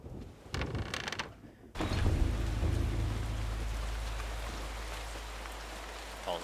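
Steady heavy rain with a rumble of thunder in the horror video game Eternal Darkness, filling the scene after a short burst of other game sounds, loud and continuous with no talking.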